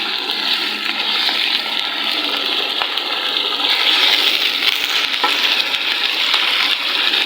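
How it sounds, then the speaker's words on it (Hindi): Minced mutton keema fries with onions in a hot pan, making a loud, continuous, close sizzle with crackling spatters that holds steady throughout, with no talking. "थोड़ी देर मैं इसको करूँगी इसके अंदर फ्राई।"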